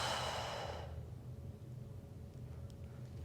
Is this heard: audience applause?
no